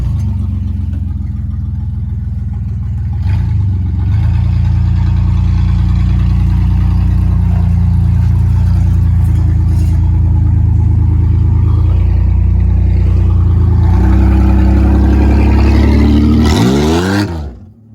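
A car engine revs hard and holds high during a burnout attempt, a loud sustained roar for most of the stretch that surges near the end, then cuts off abruptly.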